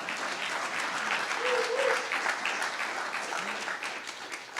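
Moderate audience clapping at a new venture business competition, steady and fairly distant for several seconds, with faint voices underneath.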